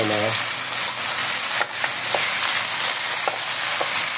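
Tenderized beef shank sautéing in a pan with salt, ginger and pepper, a steady, loud sizzle running the whole time with a few soft stirring scrapes and no voices.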